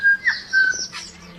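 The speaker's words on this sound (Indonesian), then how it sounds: "sampai keduanya teralihkan dengan suara burung" A short whistled bird call of two or three clear tonal chirps, fairly close and alone with no talk.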